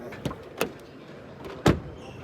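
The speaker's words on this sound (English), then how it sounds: "Solid closing sound, but the rear doors really feel super light." Doors on a 2023 Ford Focus Active with a 1.0 EcoBoost engine being shut: three separate close thuds, the last one heaviest and deepest, with quiet gaps between.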